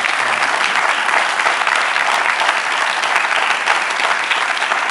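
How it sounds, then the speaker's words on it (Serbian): Steady applause from a studio audience on a Croatian talk show, dense and even, filling the clip without a break and with no talk over it. "I zaslužuje aplauz."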